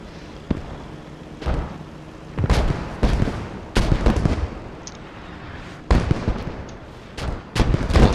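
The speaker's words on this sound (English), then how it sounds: "This has got to be King's German Legion mortars, I suspect." Mortar shells land repeatedly in the video game Post Scriptum, a string of sharp, loud blasts at irregular intervals, some nearer and harsher, others more distant, each followed by a brief rumbling decay.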